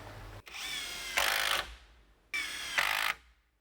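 Two short bursts of a cordless drill driving screws into a wooden double top plate on a workshop wall, each a whirring run that rises into a loud final strain as the screw seats, with a pause between and no talk.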